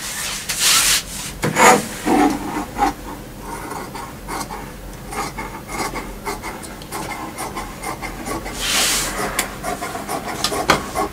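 Scissors cutting trouser fabric laid out on a table for a women's pant sewing job, giving close, steady rubbing and rasping snips with a few louder swishes near the start and end, no voices.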